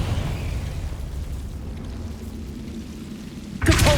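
A Confringo fire spell in Hogwarts Legacy gives a sustained rumbling roar that slowly fades, then a sharp loud burst near the end, with no voices.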